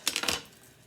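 A garlic clove is smashed on a kitchen board: a few quick, close knocks in a short cluster, then quiet, fairly faint overall.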